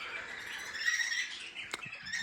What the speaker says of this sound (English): here are some budgies